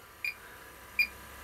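A refrigerant leak detector for HVAC work beeping twice, short high electronic tones about three quarters of a second apart, close and fairly quiet over faint background hiss.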